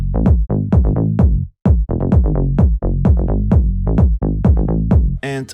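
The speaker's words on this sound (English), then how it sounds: "When we glue the bass and the mid bass with the kick" House track excerpt with deep bass and mid-bass sidechained and glued to a punchy four-on-the-floor kick, steady pulsing rhythm with brief dropouts, loud and upfront, ending in a short bright fill.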